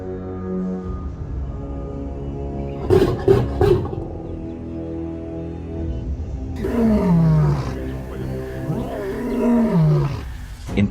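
A wild lion in India's Gir Forest roars, deep drawn-out groaning calls rising over a low rumbling background, with a couple of short grunts earlier and two long roars later.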